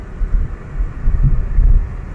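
Strong wind from a severe thunderstorm with snow near Fes and Meknes, Morocco, roars and buffets the microphone as a loud, steady low rumble with gusty swells.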